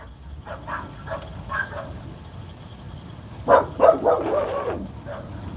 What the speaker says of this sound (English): You got Eden barking in the background